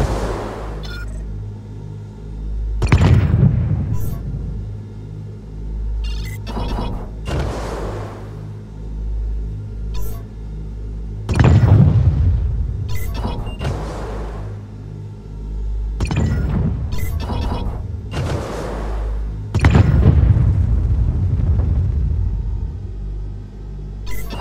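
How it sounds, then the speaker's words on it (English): Missiles in the EVE: Valkyrie space combat video game firing and exploding, giving a series of heavy rumbling booms about every four seconds, each swelling and fading over a low continuous drone, with no speech. "release to fire your loaded missiles"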